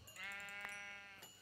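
Sheep bleat in Minecraft on a farm, a single clear, wavering bleat lasting about a second, close and alone.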